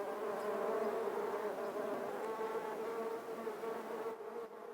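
Honeybee workers cluster around their queen, producing a soft, steady, close buzzing hum that wavers slightly in pitch and holds alone without voices for the whole stretch.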